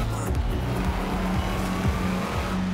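Mini Coupe driving in Forza Horizon 4, its game engine note droning steadily with shifting revs and faint tire noise, loud and continuous throughout with no talk.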